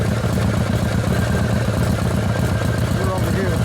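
A 1979 Harley-Davidson Shovelhead 80ci engine on a rigid frame idles steadily and loudly up close, a dense low rumble that runs throughout with voices talking over it.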